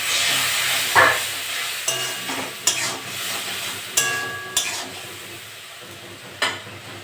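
Vegetables and shrimp frying in a pan after a splash of water, giving a steady close sizzle and hiss broken by several sharp clinks and scrapes of a stirring utensil against the pan, with no talking.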